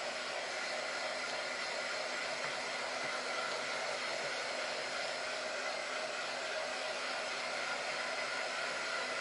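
A hair dryer blows steadily and loudly throughout, drying paint on a door hanger, with a constant broadband whoosh and no voices.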